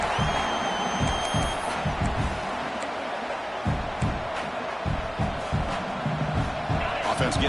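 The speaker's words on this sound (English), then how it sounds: "This crowd is trying to inspire this defense to make a big red zone stop." Football stadium crowd roaring and cheering to urge on the defense during a red zone stand, a continuous loud crowd bed under a commentator's voice.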